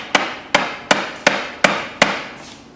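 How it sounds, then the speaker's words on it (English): Six sharp, evenly spaced blows of a rubber mallet striking a hard surface while assembling a round rain barrel, each a dull thud with a short decay, close and loud. "Here's a little hammer."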